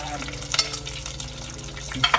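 Barbecue pieces frying in a pan while being stirred, with a low continuous sizzle broken by scraping and clattering stirring strokes, louder bursts near the end.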